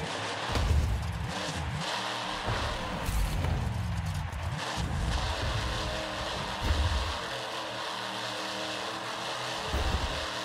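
Monster truck engine roaring and revving at speed in the Monster Truck Championship video game, a continuous loud drone with rising and falling surges and occasional thumps.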